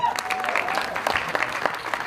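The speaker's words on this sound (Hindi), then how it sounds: "भूषण जी, इसके लिए एक बार जोरदार ताली होनी चाहिए।" Audience clapping at a film teaser launch event, a steady spread of handclaps running throughout with a voice speaking over it.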